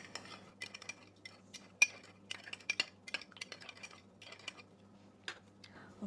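Spoon clinks and scrapes against a bowl while apple cider vinegar is stirred into milk to make buttermilk, a run of light, quick metallic taps, close and fairly quiet, with no talking.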